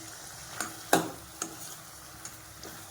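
Quail fries in spiced oil in a pan with a soft, continuous sizzle. A handful of distinct scraping and tapping stirs come through, one louder than the rest, with no talk.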